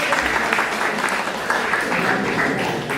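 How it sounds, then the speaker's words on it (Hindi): Audience applause at a community music day, steady dense clapping throughout with a faint voice or two mixed in. "एक बार जोरदार तालियों से।"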